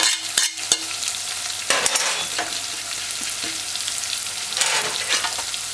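Thyme, pimento seeds and dried herbs fry in a pan for Jamaican salt mackerel run down, with a loud steady sizzle and repeated scraping stirs and utensil knocks against the pan, close up and alone.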